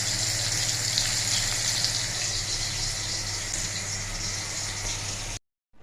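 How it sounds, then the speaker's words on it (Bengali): Continuous loud hissing sizzle of fish frying in oil close by, which cuts off abruptly near the end. "ইলিশ মাছ ভাজা বসিয়েছি"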